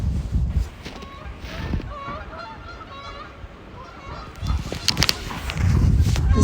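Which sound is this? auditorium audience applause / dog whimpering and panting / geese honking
geese honking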